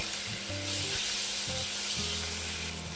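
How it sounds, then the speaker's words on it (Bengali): Pieces of pigeon meat sizzle and fry loudly in a pan of fried onions, with stirring clatter and scraping tones running through the steady hiss. "এইখানে আমি কবুতরের মাংসগুলো ঢেলে দিব। ঢেলে দিয়ে ভালো করে নেড়ে চেড়ে"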